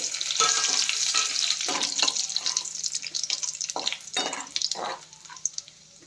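Curry leaves frying in hot oil in a pan, a steady crackling sizzle with sharp spatters and pops throughout, close and continuous.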